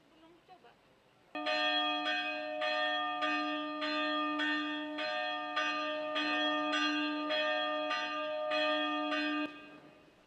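A church bell at HKBP Sutoyo rings before a Sunday service, striking in a quick, steady rhythm for about eight seconds, loud and ringing. Faint murmurs come just before it starts.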